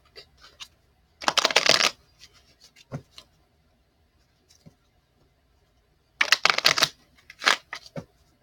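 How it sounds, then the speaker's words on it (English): Two bursts of tarot card decks being riffle-shuffled, each lasting under a second, close and crisp, with light handling taps between and no talking. "I'll shuffle up these real quick."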